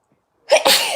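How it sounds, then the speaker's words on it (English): A single loud sneeze, a sharp inhaled buildup followed by an explosive burst, close to the microphone after a moment of silence. "I'm going to sneeze."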